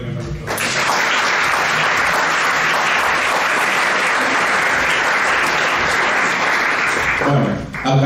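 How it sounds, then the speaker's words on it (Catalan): An audience gives a loud, dense burst of applause after a talk on photography, starting abruptly and continuing steadily for several seconds before cutting off, with brief speech at the edges. "Un aplaudiment per això."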